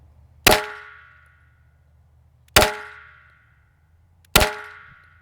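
Smith & Wesson M&P 2.0 pistol fired three times, each shot a sharp, loud metallic crack that rings out and decays over about a second, spaced roughly two seconds apart, close by with no talking.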